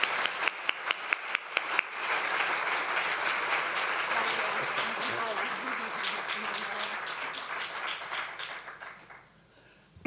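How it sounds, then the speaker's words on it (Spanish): Sustained applause from a conference audience following a talk at a Buddhist gathering in Spain, with a few sharp claps at the start swelling into a dense, steady ovation that fades near the end. "Vamos a darle un fuerte aplauso."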